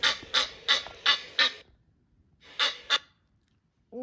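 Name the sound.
Egyptian goose call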